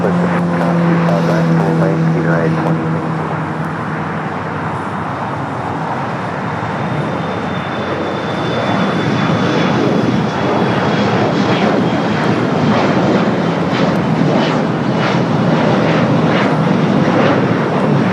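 An airliner takes off from a runway at LAX, a loud, sustained jet engine roar that swells and thickens as it builds power and climbs, heard alone without speech.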